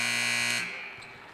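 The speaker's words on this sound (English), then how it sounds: "There's the buzzer." A basketball buzzer sounds loud and steady for about half a second to end the first half of a high school boys playoff game, Monument Valley Mustangs at Chinle's Wildcat Den, then cuts off into a fading gym murmur.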